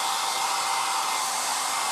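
A 1980s Black & Decker SW105 Stowaway 1000 travel hairdryer runs in one steady, loud, high-pitched whooshing roar, close up and unbroken, with no voices.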